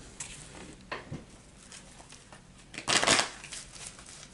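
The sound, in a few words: shuffling tarot cards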